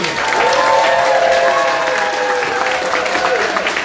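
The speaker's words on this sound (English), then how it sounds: "Big round of applause for Stephanie." An indoor audience at a casual talk night breaks into sustained clapping, dense and loud throughout, with a few whoops mixed in.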